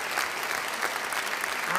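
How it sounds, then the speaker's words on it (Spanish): Live-stream audience applause: a dense, steady wash of many hands clapping at a fairly even level for the whole stretch, with no distinct voices standing out. "con aplauso y todo"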